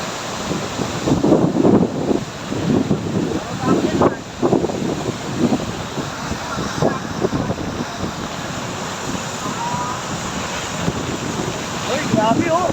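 Powerful rushing water at a dam roars continuously, with heavy wind buffeting the microphone in uneven gusts and a voice faintly under the torrent.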